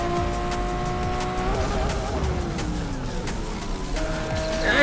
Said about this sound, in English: I hear this engine sound so many times precisely because of all of my Lambos